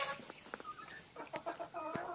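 Local country chickens, some now laying eggs, clucking in short repeated bursts close by, several soft calls overlapping with no talk.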